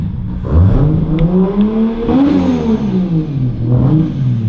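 A 1991 Nissan Skyline GT-R R32 engine revving close by, its pitch swelling and falling in several throttle blips with a rough, throaty idle between them.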